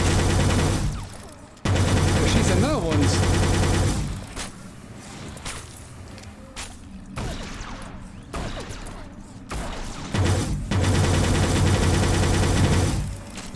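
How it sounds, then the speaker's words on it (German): Enemy gunfire in the virtual reality shooter Experiment Gone Rogue comes in loud, dense sustained bursts that break off into quieter gaps, then resume strongly toward the end. "Der schießt ja nach uns."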